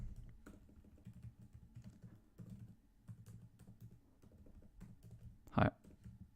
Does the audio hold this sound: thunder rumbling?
no